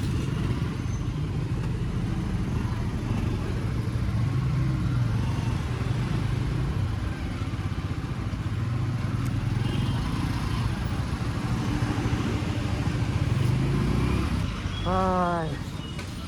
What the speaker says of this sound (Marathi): अरे बाप, किती मोठे मोठे ट्रक येतात तिकडनं